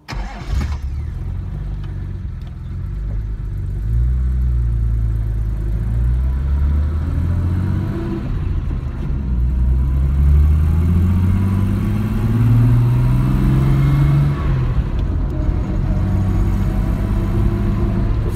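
A 1962 Jaguar E-type Series 1 coupe, fitted with a five-speed gearbox, cranks and fires, then settles into a loud, close, steady engine drone whose pitch rises and falls as it drives off, with no talking.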